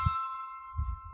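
A Samsung phone gives off a faint, sustained electronic notification tone that rings steadily through the moment, with soft low bumps of handling noise underneath and no voices.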